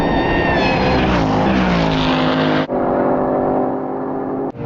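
A BMW M4 Competition accelerating hard, its loud engine note climbing steadily before a sharp break and a fresh pull at a lower pitch, with the roar continuing close and dominant.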